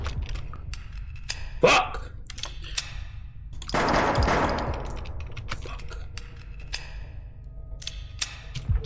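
Gunfire in an indie horror video game: sharp scattered shots and clicks over a low droning background, with a louder burst of noise in the middle and no talk.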